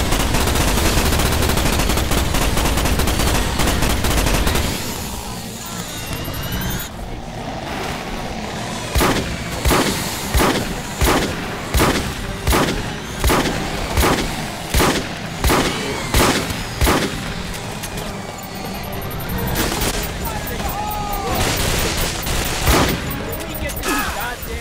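Heavy weapon fire in the video game Starship Troopers as bugs are shot: a loud, dense burst at first, then a regular series of sharp, evenly spaced booming shots with chaotic noise and a voice in between.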